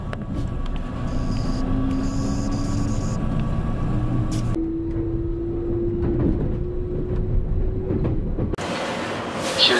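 A limited express train rumbles along steadily with a droning motor hum that rises in pitch, followed by a sudden burst of rushing noise near the end.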